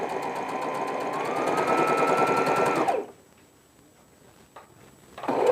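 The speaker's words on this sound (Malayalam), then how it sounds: "സ്ട്രാപ്പ് സ്റ്റിച്ച് ചെയ്യുകയാണ്." A sewing machine runs steadily, stitching a fabric strap for a newborn's frock, its rapid needle hum close and continuous for about three seconds before stopping, followed by near quiet and a brief restart at the end.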